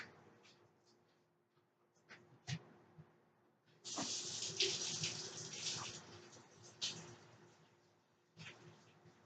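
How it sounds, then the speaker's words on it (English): Running tap water splashes over hands at a kitchen sink for several seconds, rising abruptly mid-clip, with faint clatter and handling sounds before and after; no talking. "Let me wash my hands."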